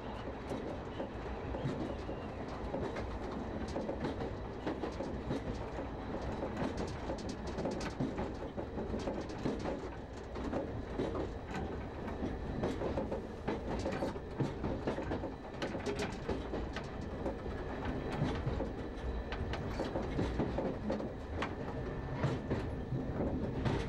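A London Underground Piccadilly line train runs steadily on approach to Uxbridge, with continuous rumble, wheel noise and rail clatter throughout and no talk.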